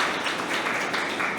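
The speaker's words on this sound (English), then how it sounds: "Let's applaud that." Audience applause at a maritime history society valedictory event honouring new research fellows, a brief even wash of many hands clapping, steady and moderately loud, with no voices over it.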